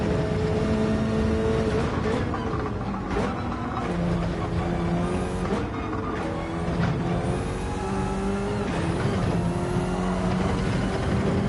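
A Gran Turismo race car laps Dragon Trail Gardens in the rain. Its engine drones loudly and steadily, climbing and falling in pitch through gear changes and corners, with brief tyre squeals.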